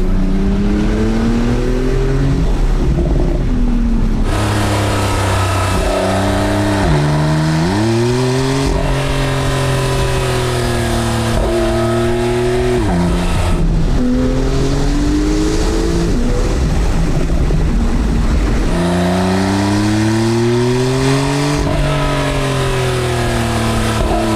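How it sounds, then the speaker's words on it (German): Porsche 911 Targa 4 of the 991.2 generation revving, its exhaust rising and falling in repeated loud, close blips that hold the whole stretch with no talk. "Macht der Auspuff."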